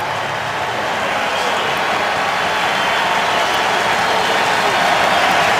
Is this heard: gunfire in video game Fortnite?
no